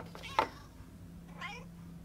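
A cat in the Batman: Year One video game gives a sharp, close meow, then a second fainter, drawn-out crying call a second later over a low steady background hum.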